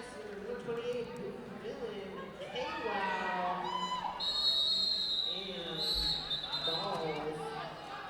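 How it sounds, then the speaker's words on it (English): A referee's whistle shrills at a roller derby bout over crowd noise and a commentator's voice, with sustained high blasts midway and skate rumble beneath. "they heard a whistle and everybody went for it"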